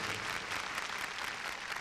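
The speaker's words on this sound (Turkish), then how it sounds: "Ve şimdi hep birlikte İsa Mesih'e koca bir alkış verelim." A church congregation gives a big round of applause for Jesus Christ, a dense steady clapping with no voices, heard at moderate distance.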